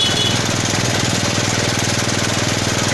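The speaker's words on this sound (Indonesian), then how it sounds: "ini sudah hidup ya mesinnya" A motorcycle engine runs steadily at close range, a loud continuous rapid chugging and rattling idle with no pauses.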